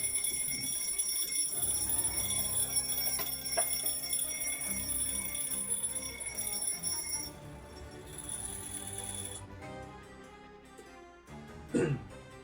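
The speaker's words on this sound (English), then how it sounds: "It's the second time now that I forget to turn off that alarm while streaming." An alarm rings steadily through a livestream, a sustained bell-like tone with layered ringing harmonics that holds for several seconds, then cuts off, followed by a brief sharp sound near the end.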